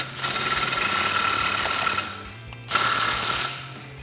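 A power tool tightens the exhaust clamp bolt on a 2018-2019 Mustang GT during an axle-back exhaust install, giving two close bursts of rapid rattling impact, the second shorter, with a brief pause between.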